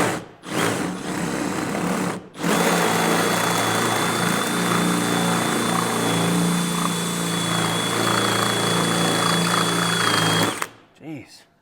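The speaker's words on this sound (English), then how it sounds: "Now we're going to drill a hole." A loud, steady whine of a power drill boring into thick metal on a Peterbilt truck for several seconds, starting and stopping abruptly, with brief bits of talk at the edges.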